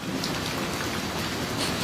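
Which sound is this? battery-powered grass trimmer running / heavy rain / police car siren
heavy rain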